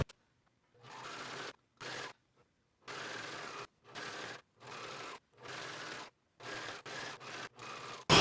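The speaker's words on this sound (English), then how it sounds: "we're going to top stitch all the way around on the right side using a stretch stitch, serger, or zigzag" A sewing machine runs a stretch stitch to topstitch fabric in about a dozen short bursts of steady mechanical whirring, separated by brief silent pauses, close and moderately loud.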